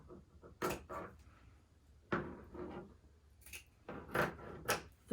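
Scissors cutting the corner out of blanket fabric, several close crisp snips and rustling cuts in uneven bursts with quiet gaps between, no talking.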